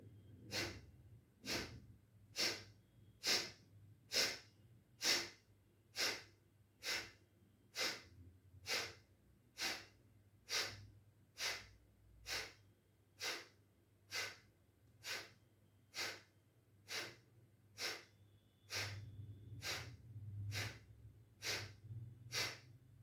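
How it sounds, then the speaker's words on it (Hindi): Sharp, forceful kapalbhati pranayama exhalations through the nose repeat at a steady pace, about one per second, close and breathy, with a brief pause near the end. "अब आपको फोर्सफुली सांस को बाहर छोड़ना है, जब जैसे आप खांसी करते हो वैसे।"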